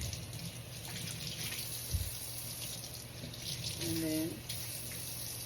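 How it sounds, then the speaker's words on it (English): Jars are washed under running tap water before canning, a soft steady faucet stream with clinks and a gurgling swell near the end, faint and close under brief speech. "You always want to give them a good wash, because remember, they're going to go in your pantry."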